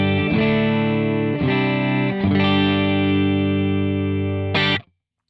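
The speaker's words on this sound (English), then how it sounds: "It is an absolutely fantastic sounding, sort of clean Vox AC30, sort of chimey amp, and it sounds like this." An electric guitar plays clean through a TWS 2864S chimey amplifier voiced like a Vox AC30, a few ringing sustained chords changing every second or so, loud and close, ending on a short high chord that cuts off abruptly.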